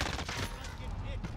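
Brief burst of gunfire in the shooter video game Call of Duty Warzone's Operation Monarch, loud rapid shots packed into a short, busy moment.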